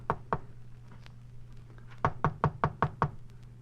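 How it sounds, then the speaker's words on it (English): Knuckles rap on an apartment door: two knocks, a pause, then a quicker series of six firm, close knocks over a low steady hum. "I knocked."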